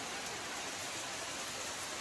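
Heavy monsoon rain pours down steadily on a village, a dense, loud, unbroken hiss of downpour striking surfaces, with no voices.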